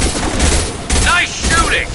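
Rapid, dense gunfire rattles close and loud in Mass Effect 2, a continuous burst of shots with sharp metallic impacts throughout the short stretch.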